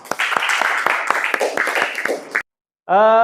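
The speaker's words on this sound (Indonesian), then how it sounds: "terima kasih tepuk tangan semuanya" Classroom applause from a group of students, dense clapping with sharp individual claps for a little over two seconds, then a sudden stop, a brief silence and a voice starting.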